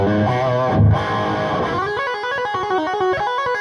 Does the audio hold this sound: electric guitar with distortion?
yes